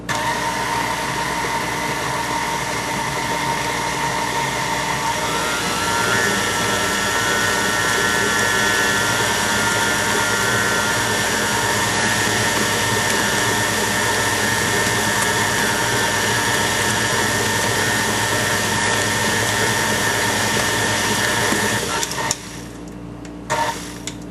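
An electric mixer whirs steadily and continuously through buttermilk cake batter with flour, a constant motor drone that cuts off abruptly near the end, with no talking.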